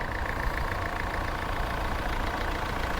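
A diesel Ford hatchback's engine idles at a used car lot, a steady low rumble held at an even level throughout, close and unbroken, with no talking.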